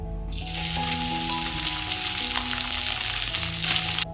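Cardamom, cinnamon and bay leaf drop into hot oil in a wok and burst into a loud, steady, close-up sizzle that holds for several seconds before cutting off abruptly.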